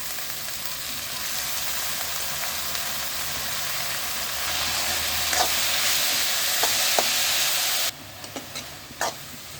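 Boiled banana flower goes into a hot pan of tomato for kootu. It brings a steady close sizzle and stirring hiss, followed by a few sharp spoon taps against the pan.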